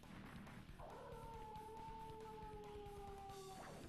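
In the video game Guilty Gear: Judgment, a dog gives one long, drawn-out, howling whine that holds steady for a few seconds and then cuts off, heard faintly over a continuous noisy game backdrop.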